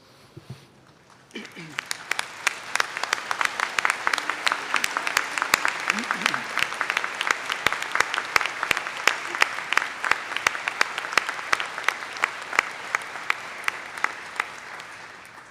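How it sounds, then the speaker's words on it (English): A large crowd at a university commencement ceremony claps steadily and warmly for the graduates for a long stretch, the applause swelling quickly and holding at an even level before easing slightly. "offer a round of applause for our graduates"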